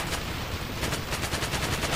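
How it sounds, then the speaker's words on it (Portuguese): Continuous machine gun fire in the Medal of Honor: European Assault video game, loud rapid bursts of shots in a dense, unbroken rattle with no talking. "tem que acertar com a metralhadora"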